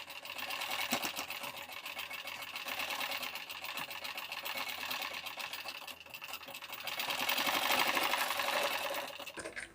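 A sewing machine runs continuously as it topstitches a strip of fabric for a blouse, its rapid needle clatter even and close, swelling slightly louder toward the end before stopping.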